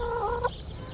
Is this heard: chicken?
yes